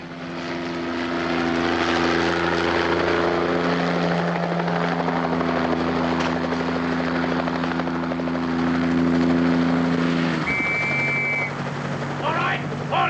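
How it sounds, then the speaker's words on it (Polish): Helicopter flying with a steady rotor and engine drone held loud and close for about ten seconds, then shifting pitch as it passes, with a brief high whine near the end. "Ruszamy. Jak? Śmigłowcem."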